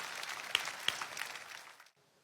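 A church congregation claps together in a reverberant hall, a moderate wash of applause with a couple of sharper claps standing out, gradually thinning and then fading to near silence in the final moments.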